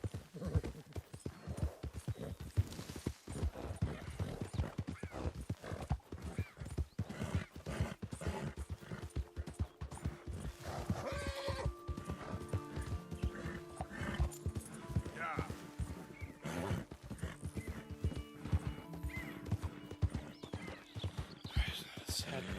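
Horse hooves clip-clopping steadily in Red Dead Redemption 2, with whinnies and neighs among the rhythmic footfalls while someone talks over them throughout.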